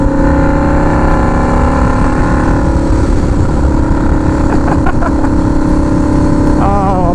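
A turbocharged Harley-Davidson V-Rod motorcycle engine runs steadily and loudly close by, holding a dense drone with the revs climbing slightly toward the end, and no talking.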